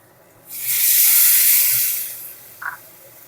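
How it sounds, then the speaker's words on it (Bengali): Water poured into a hot pan of spice-fried fig and potato bursts into a loud hissing sizzle of steam that swells, holds for about two seconds, then dies away, followed by a brief clink. "এবারে আমি এর মধ্যে দিয়ে দেব জল"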